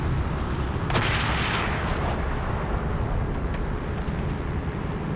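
Heavy World War II gunfire and booming blasts in the Call of Duty World at War video game form a loud, dense, continuous roar, with a sharp crack near the start.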